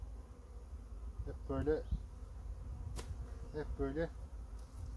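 Bees and wasps buzzing around an open wooden beehive with several frames, a low steady hum with a few close passing buzzes, heard faintly under someone talking outdoors.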